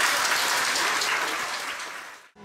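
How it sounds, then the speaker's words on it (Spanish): Festival crowd at a parish corn festival in San José Las Flores, Chalatenango, breaks into loud, dense welcoming applause that fades out abruptly near the end. "dense un fuerte aplauso de bienvenida."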